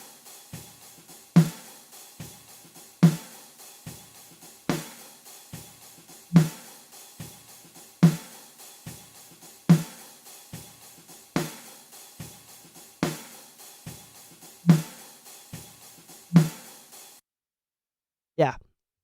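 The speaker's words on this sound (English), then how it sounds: "That was like a super clear example of pre-ringing." A linear-phase equalizer adds pre-ringing to a percussive hit that repeats about eleven times at an even pace, each strike preceded by a faint smeared swell, followed by a brief pause and one last short sound.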